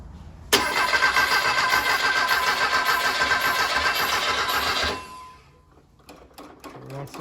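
A Porsche 356/912 engine revived after more than 25 years cranks and catches abruptly, then runs loud and rough for several seconds before dying away into faint clicks and shuffling.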